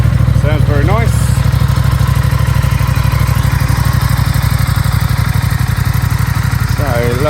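An Aprilia Tuono 660 Factory motorcycle, a 2024 bike with low mileage, idles steadily after a button start, its engine thrumming in an even, close, loud pulse while someone talks over it.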